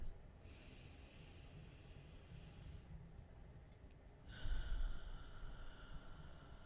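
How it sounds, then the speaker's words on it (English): A slow, deep mindful breath, a long soft airy inhale with a brief pause and then a fuller exhale, close and quiet with no talking. "Just take a deep breath. One mindful breath."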